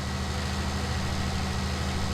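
A Renault tractor engine idles in a farming video game, giving a steady, dense low rumble with constant broadband noise and no talk.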